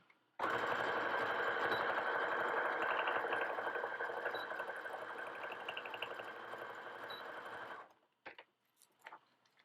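A sewing machine stitches back and forth on a mini journal in one loud, steady run of about seven seconds, then stops, followed by a few faint clicks and handling noises.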